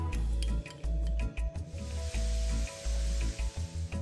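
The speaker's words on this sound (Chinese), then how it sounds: "勺入3大匙约50毫升炸葱油，加入30克蒜末爆香" Thirty grams of minced garlic fry in about 50 ml of fried scallion oil over medium heat, crackling in a bright, close sizzle, while a low rumbling hum cuts in and out in uneven bursts underneath.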